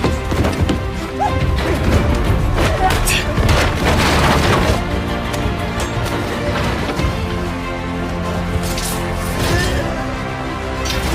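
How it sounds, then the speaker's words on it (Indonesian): A bomb explodes in a Rurouni Kenshin film scene, with loud, dense booming crashes and rumbling debris that sustain throughout at high volume. "dia pun meledakkan bom yang dipegangnya dan hampir membunuh Kenshin"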